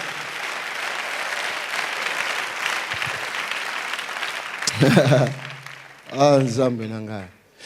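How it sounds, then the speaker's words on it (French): A church congregation applauds steadily and loudly for several seconds, a dense wash of clapping, before a preacher's voice breaks in and speaks over the fading applause. "Acclame très très fort pour le Seigneur."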